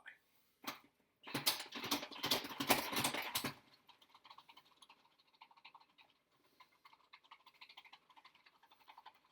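Salad spinner whirring with cut potatoes inside, a loud burst of rapid rattling clatter for a couple of seconds, then a quieter, steady fluttering spin that continues to the end.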